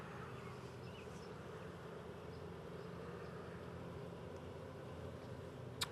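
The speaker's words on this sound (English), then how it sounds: "Okay, a lot of busy bees running around" Honey bees from a swarm buzz on hive frames taken from a tree, a dense steady hum filling the background at moderate, fairly faint level with no talk.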